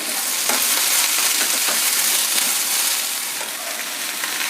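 Garlic fries with onions in hot oil, a loud, dense, continuous crackling sizzle heard close up with faint stirring, no voices.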